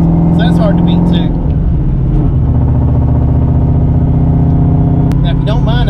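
An SN95 Ford Mustang swapped with a 470 hp all-aluminum 5.0 Coyote V8, driving with a loud steady engine drone throughout, while someone talks over it.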